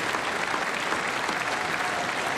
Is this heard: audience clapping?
yes